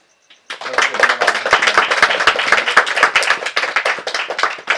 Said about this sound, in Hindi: तो आइए हम लोग हमारे भाई खाका के लिए ताली बजा देंगे।